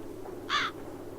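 A single crow caw from The Dark Eye: Chains of Satinav video game, a short harsh call rising over a quiet background and fading quickly.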